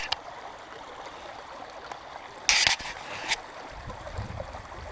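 A brook flows through spring woodland, a soft, steady trickle heard at moderate distance, broken by a brief louder rustle or splash partway through.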